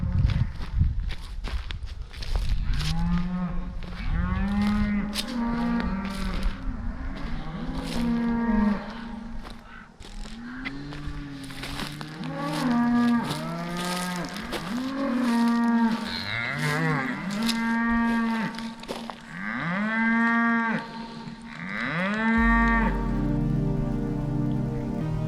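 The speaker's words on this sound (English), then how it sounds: "you see cattle, but you don't see them herding them" Cattle moo repeatedly in long, drawn-out calls beside a forest campsite in the Coconino National Forest, several animals overlapping, fairly near, over a steady patter of rain and scattered footsteps.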